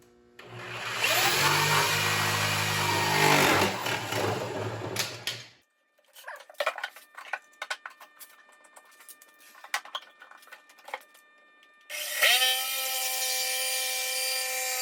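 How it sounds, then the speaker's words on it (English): A jigsaw cuts through a traced curve on a wooden board for a handmade Christmas gift, buzzing loudly for about five seconds, then light tapping and handling noises, then the saw starts again and runs steadily. "I'm going to use a jigsaw and cut this on here after I trace it out"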